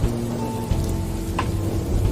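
Steady rain falling, a continuous wash of patter with a low rumble underneath and a brief sharper drop-like tap.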